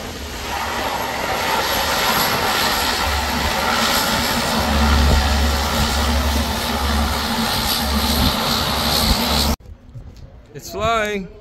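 A Canberra jet bomber in flight gives off a loud, steady jet-engine roar that rumbles on for about nine seconds, then cuts off abruptly as a voice starts speaking.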